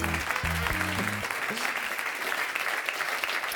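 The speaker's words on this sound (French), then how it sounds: "on peut applaudir Yacine Nemra, mesdames et messieurs" Studio audience of a French late-night talk show applauds steadily, with a musical tone and brief voice early on over continuous clapping.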